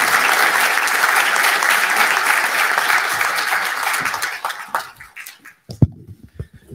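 Sustained crowd applause at a presidential inauguration ceremony, loud and dense, that thins out toward the end into scattered individual claps.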